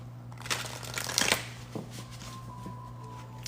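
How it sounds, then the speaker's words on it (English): Oracle cards shuffled by hand, a soft papery riffle with a few brief flutters and taps, close and fairly quiet, no talking. "Let's pull some more oracle cards here and see what else."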